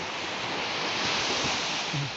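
Ocean surf rolls onto a beach as a steady, loud broadband wash, with wind buffeting the microphone throughout and no voices.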